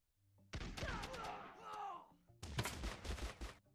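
Musket-armed custom units trade gunfire in a battle game: bursts of sharp, crackling shots in two clusters separated by a short pause, fairly close, with a voice talking over them.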